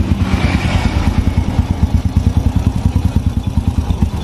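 The engine of a Honda Supra 100 motorcycle runs after a piston overhaul, a steady rapid mechanical putter with clattery texture, loud and close, continuing without talk.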